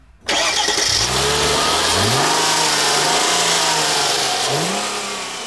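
A 3.2-litre, 215-horsepower car engine roars loudly and close, revving repeatedly with rising and falling pitch sweeps over a steady rumble.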